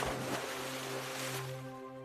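A cartoon animal drops into water with a splashy whoosh at the start, followed by a soft wash of watery noise over a steady tonal hum.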